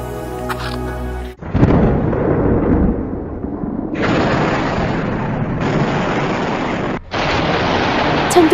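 Thunder rumbles loud and low in several long rolling bursts, separated by abrupt cuts, with no speech over it.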